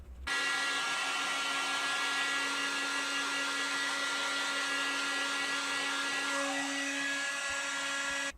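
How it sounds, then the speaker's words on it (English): A heat gun blows steadily to dry thin layers of filler during a car interior repair, a loud continuous whirring hiss with an even hum that holds for the whole stretch, no talk. "And I'm also using a heat gun to help the process a little bit."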